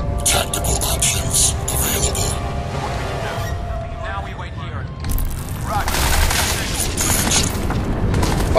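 Gunfire aimed at the player during combat in the video game Crysis 2, a dense continuous volley with booming impacts layered over game music and effects, loud throughout.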